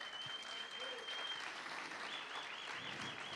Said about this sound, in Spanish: Da un aplauso por la palabra de Dios.